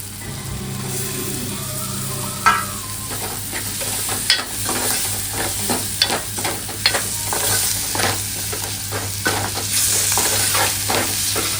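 Masala for river clam curry frying in a pan, with steady sizzling and repeated scraping stirs of a spoon at an uneven rhythm, close and fairly loud with no talk.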